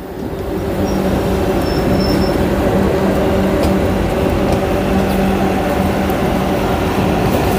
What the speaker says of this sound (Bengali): 5 মিনিট লেট করে আমাদের ট্রেন ছেড়ে দিল